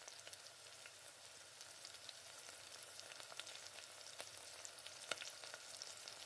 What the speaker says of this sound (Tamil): வெங்காயத்தில் உப்பு போட்டு இந்த மாதிரி வதக்கிக்கோங்க